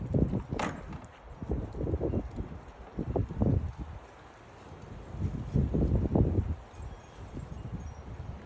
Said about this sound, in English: Listen to that wind, guys.